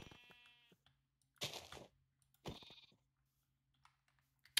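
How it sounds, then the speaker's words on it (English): Sheep bleats from the video game Minecraft, a few short quiet cries spaced apart, with soft clicks between them and a faint hum underneath. "I don't know why I killed the sheep,"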